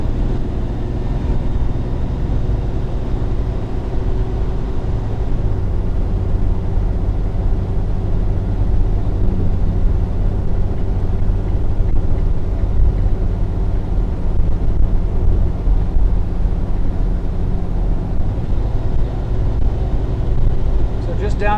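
A 2020 Freightliner Starcraft Allstar XL 36-passenger shuttle bus with rear luggage cruising at around 60 mph on half throttle, a loud, steady engine drone and road rumble throughout, with someone talking over it.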